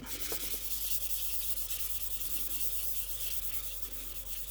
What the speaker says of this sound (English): Check a little sanding on it.